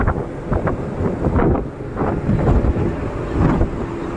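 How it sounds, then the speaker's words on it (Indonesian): Strong wind gusts buffet the microphone on the deck of the passenger ship KM Tidar, a loud, rumbling, uneven roar in repeated bursts, with no one speaking. "Ini anginnya kencang sekali."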